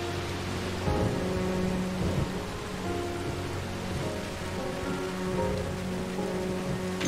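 Steady rain falls in Stranger of Paradise: Final Fantasy Origin, a dense, even hiss of drops on surfaces that lasts the whole stretch, with low tonal game ambience underneath.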